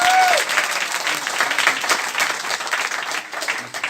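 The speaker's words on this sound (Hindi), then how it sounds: "एक बार तालियां बजा दीजिए दम लगा के।" An audience at a talk on RCM breaks into loud, dense applause that carries on steadily, with scattered voices underneath.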